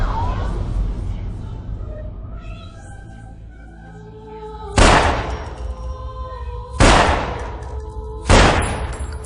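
Three sharp gunshots in a film scene ring out a couple of seconds apart, loud and close, over a low rumbling background with some distant voices.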